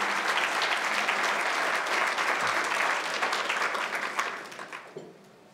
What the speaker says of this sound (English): Give them a round of applause for sponsoring the scholarships and this awesome event today.